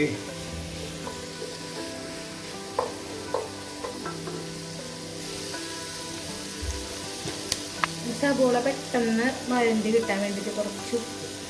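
Onions sizzle and fry steadily in a pan as curry leaves go in, with clattering stirs and a brief burst of louder crackling near the end, all close and under occasional light kitchen noise.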